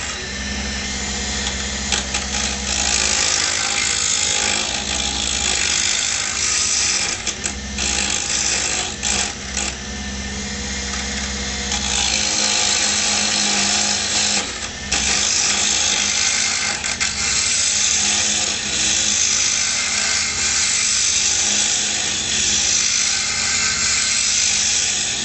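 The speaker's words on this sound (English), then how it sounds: "I'm all the way up on this cheap lathe" Small, cheap wood lathe spinning at full speed while a pipe stem is turned, a steady high mechanical whine with rattling and brief scraping bursts where the tool bites, continuous and close.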